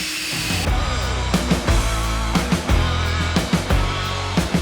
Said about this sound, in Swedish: Så du skjuter ju ner vatten samtidigt som du dammsuger.